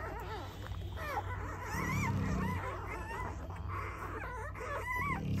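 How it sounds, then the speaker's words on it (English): Newborn puppies whimper and squeal in a litter, with a steady run of high, wavering cries overlapping one another, close but fairly quiet. "Some really nice puppies right here."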